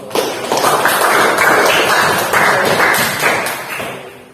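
Classroom applause from a group of students, a dense, loud patter of many hands clapping continuously for a few seconds before tapering off.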